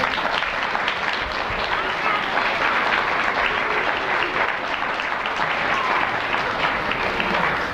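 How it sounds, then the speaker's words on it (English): Sustained applause from a crowd at a second-grade school assembly, a dense, even patter of clapping that continues without pause throughout. "Can we please give them a round of applause?"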